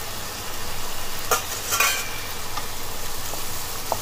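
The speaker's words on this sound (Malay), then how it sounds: "kita kacau lah" Salted soybean paste and mixed vegetables stirred in a pan over medium heat, a soft sizzle with a few scraping strokes of a utensil, close and fairly quiet.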